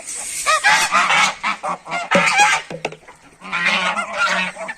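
Geese honk loudly and continuously, a crowded chorus of overlapping nasal calls close at hand with no pause.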